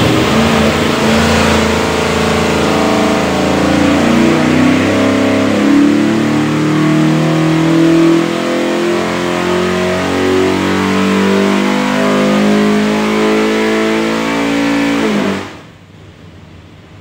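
A 482ci all-aluminum dry-sump Ford FE V8 with Holley EFI, built for a '64 Galaxie, roars loudly and steadily on an engine dyno through a sustained hard pull, then cuts off abruptly near the end.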